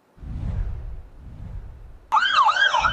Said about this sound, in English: The sounds of these sirens are not something Nick and Michelle Keys are used to hearing in their neighborhood.